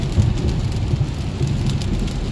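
Steady rain drums on a car while driving, a continuous loud wash with low road rumble underneath, no voices.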